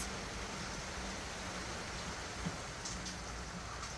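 Heavy rain pours steadily outside a hut on a dark day, a dense unbroken hiss with scattered louder drops and no voices.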